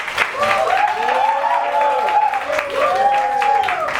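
An audience at a live stand-up comedy show applauds steadily for a few seconds, with voices and cheering rising over the clapping.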